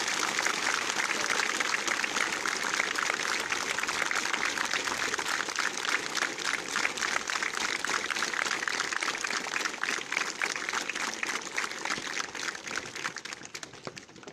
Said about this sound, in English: Let's show a big round of applause and make a statement.